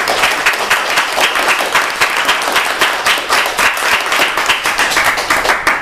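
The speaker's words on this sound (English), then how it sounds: "I think Claire deserves our round of applause" Applause from a small audience after a talk at a political discussion evening, crisp individual claps clearly audible in a lively, rhythmic patter that continues for several seconds, fairly close.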